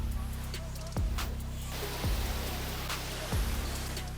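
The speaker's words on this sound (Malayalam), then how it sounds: "ഞാനിപ്പോ നിൽക്കുന്ന വെള്ളച്ചാട്ടത്തിന് നേരെ അടിയിലാണ്" Broad rushing noise of the Njandirukki waterfall in Idukki, Kerala, heard from directly beneath the falls, steady and loud, with a few brief low thumps breaking in.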